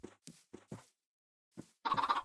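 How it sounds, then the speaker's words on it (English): Short clucks from chickens in a video game in a few separate bursts, with a louder, busier cluster of clucking at the end; no talking. "Alright, chickens."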